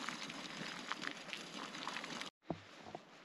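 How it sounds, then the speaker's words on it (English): Water rolls to a boil in a pot on a camping stove outdoors in the Scottish mountains, a dense, steady bubbling hiss that cuts out briefly, then returns quieter with a few soft pops. "let's see if this water's on the boil"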